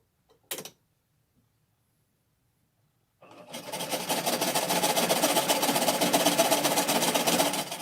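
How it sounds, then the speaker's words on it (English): A brief click, a pause, then a sewing machine starts stitching cotton fabric for a mask, running steadily at speed, a fast even mechanical whir with no voices. "you want to fold this up so it'll be in place when your sewing machine gets to there."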